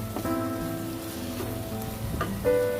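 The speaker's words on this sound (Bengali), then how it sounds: "ভেজে রাখা আলুগুলো দেওয়ার পর আমি ভালো করে এঁকে আর একটু আলুগুলোর সঙ্গে কষতে থাকবো" Fried potatoes are stir-fried with spices in a pan for a vegetarian fennel-paste dish, giving a steady close sizzle with a faint underlying tonal hum and a few light clinks near the end.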